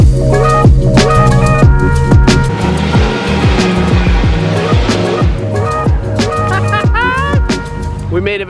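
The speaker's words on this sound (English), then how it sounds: "And Dylan just did a burnout in the shop." A car does a burnout inside a shop: its engine revs hard in repeated surges and its tires screech, loud and close. People shout and talk over the noise.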